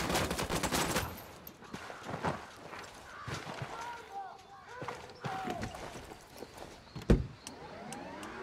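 Gunfire bursts from Ghost Recon Wildlands combat, sharp shots scattered through a busy game mix with a loud crack near the end, over background voices and effects.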